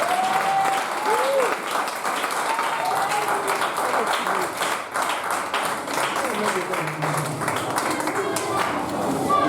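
A church congregation claps loudly and continuously in praise, a thick wall of applause with cheering voices and a preacher's voice rising over it.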